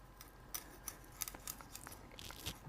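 Knife cutting along the spine of a black cod fillet, a series of faint crisp slicing and scraping snips near and quiet, with no talk.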